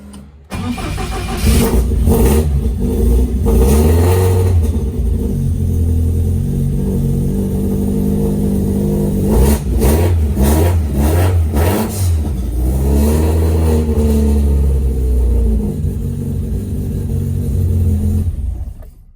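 A Ford Escort MK1 RS 2000 engine revs hard again and again, close and loud, surging and dropping in repeated bursts throughout with no voices.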